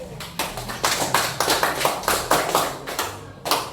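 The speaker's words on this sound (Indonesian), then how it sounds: "kasih tepuk tangan dulu" Classroom students clap for the Portuguese group before its presentation, a loose burst of rhythmic hand claps repeating steadily at close range, with no talk over it.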